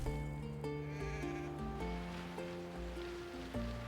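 Sheep bleating on a farm in the Anno 1800 city-building game, a few overlapping bleats layered over a steady wash of ambient game sound and surf-like background noise.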